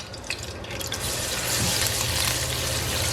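Garlic-ginger paste hits hot oil for an aloo palak (spinach and potato) curry, giving a steady, close broadband sizzle that swells louder about halfway through and holds, with no talking.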